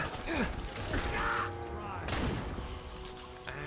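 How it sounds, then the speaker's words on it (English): In Fallout 4, an anti-materiel rifle fires in the Far Harbor area: heavy, booming reports with ringing echoes and a mechanical rattle, fairly distant and muted, while a voice talks faintly underneath. "that's definitely an anti-material rifle. I think it's kind of loud"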